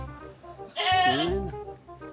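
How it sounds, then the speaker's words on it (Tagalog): A single loud, wavering goat bleat rings out close by, rising and falling in pitch before fading into quiet background. "pagpasensya nyo na nga pala yung ingay ng kambing namin."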